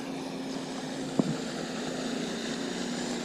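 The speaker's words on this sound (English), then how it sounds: "Right in amongst all these jet skis." Jet skis run on a lake as a steady, distant engine drone with a faint tonal hum, continuous under open-air background noise, with one brief thump partway through and no talking.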